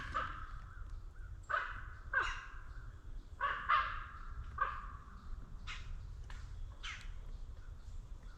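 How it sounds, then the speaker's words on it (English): A raven calls in Pennsylvania woods, a series of hoarse croaks and caws in irregular bursts over soft forest ambience, moderately close and clear, no voices. "That's a raven."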